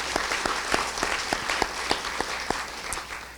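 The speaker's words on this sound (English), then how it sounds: "let's give Commander Stalker a round of applause and welcome" An audience at a town hall on opioids claps in a steady burst of applause, many hands close together, with no voices over it.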